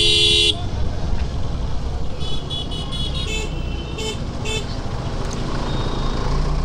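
Car horns honk repeatedly in a jammed road through a market area in Berhampore, sharp toots in several bursts over a steady loud rumble of engines and traffic, with no talk.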